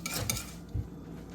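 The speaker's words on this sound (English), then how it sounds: "I'm going to stir it and let it boil for about 2 minutes." Spoon scraping and clinking against a metal pot while rum cake mixture is stirred, two or three soft knocks close by, alone without talk.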